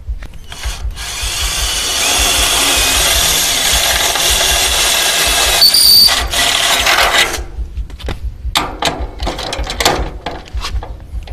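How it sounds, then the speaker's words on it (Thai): A power drill bores a rivet hole in metal. It runs with a steady loud whine for about seven seconds, then stops, followed by several short bursts and clanks. "เดี๋ยวผมจะมาเจาะอีกตัวหนึ่งนะครับ"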